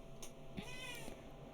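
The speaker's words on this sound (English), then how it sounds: "My cat is meowing at me." A pet cat meows once, a clear rising-and-falling cry standing out near the listener over low steady room noise, with a faint shorter mew just before it.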